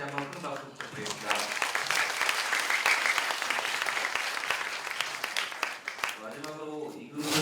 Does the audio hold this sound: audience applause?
yes